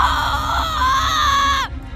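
A woman named Sonia lets out a sustained, piercing scream of horror in a sci-fi horror audio drama. The scream is loud and close, wavers and falls in pitch, and then cuts off abruptly into quiet.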